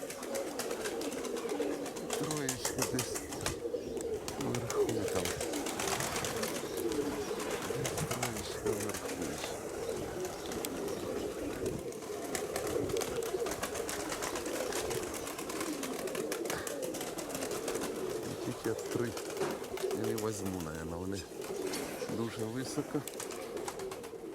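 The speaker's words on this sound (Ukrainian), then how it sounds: "Тобто голуби вверху є по-любому" Pigeons coo steadily throughout, overlapping low rolling calls from several birds nearby, with someone speaking now and then over a busy flock.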